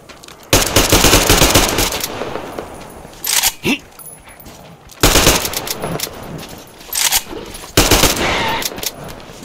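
Loud automatic gunfire from a jamming gun in Metro Exodus, with three separate bursts of rapid shots broken by pauses and brief clattering, loud and close.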